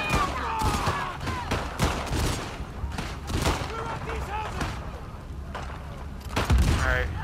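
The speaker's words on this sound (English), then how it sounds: "Oh my god, there's bullets going off." Dense bursts of gunfire and explosions in the video game The Last of Us Part II, rapid repeated shots with booming blasts, loud and continuous, partly under a person talking.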